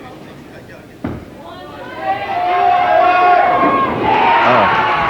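A crowd at a junior bowling match in California erupts into cheering and shouting after a sharp impact, the roar building and holding loud and close, with voices mixed throughout.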